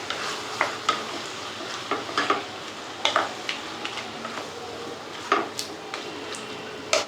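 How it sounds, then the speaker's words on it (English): Food is stirred in a pan over a flame, a spoon scraping and tapping in irregular strokes every second or so over a soft background sizzle, close and moderately quiet with no talk. "Let me stir for 2 minutes."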